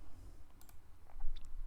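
A few light, crisp computer mouse clicks land close together in a quiet setting as a save button is pressed in a website editor.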